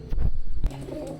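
Teddy pigeons, a Kalshia Teddy pair among them, give low, throaty coos with a loud burst at the start and another near the middle. Softer murmuring follows close by.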